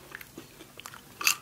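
Crisp bites and crunching of spicy potato chips being eaten up close, several soft chews building to one loud crunch near the end, with no talking.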